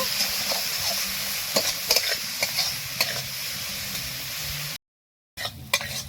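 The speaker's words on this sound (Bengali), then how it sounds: "শাকটা দেখুন ভাজা ভাজা হয়ে গেছে" Leafy greens and potatoes frying in a pan with dry red chillies, stirred now and then with sharp scraping clacks over a steady close sizzle; a short silent gap comes before the frying and stirring resume.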